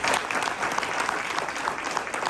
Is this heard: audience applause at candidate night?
yes